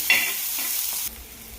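Chopped eggplant tumbles into a pan of sautéed onion and starts frying, with a close, steady sizzle and a stirring scrape that eases off partway through.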